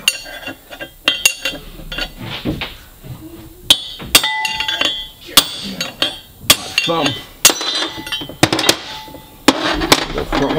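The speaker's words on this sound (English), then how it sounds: "There's little flats carved in the housing to get a chisel in there and tap those out." A chisel taps bearing races out of a Subaru R180 differential housing, giving sharp metallic clinks and knocks in irregular bursts that sound close to the microphone.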